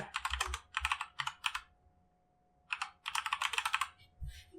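Bursts of rapid key presses on a computer keyboard as a username and password are entered, close and crisp, with two clusters of typing separated by a short pause.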